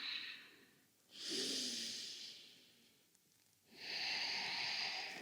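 Slow, heavy breathing during a vinyasa yoga flow, two long airy breaths a few seconds apart, each rushing in and out at close range with a soft quiet pause between them and no talking.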